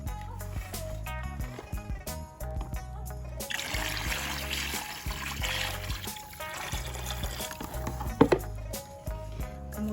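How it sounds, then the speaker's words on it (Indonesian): Rice water poured into a storage container while making liquid organic fertilizer, a splashing, trickling pour heard under background music, with a brief louder splash near the end. "Pertama, kita masukkan dulu air leri, namanya air beras."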